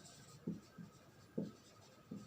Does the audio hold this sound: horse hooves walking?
no